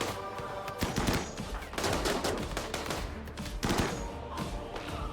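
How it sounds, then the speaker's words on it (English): Guns fire at a wall in a video game in dense, rapid bursts of cracking shots that run almost continuously, loud and close. "let's clear out some of these shambles with guns."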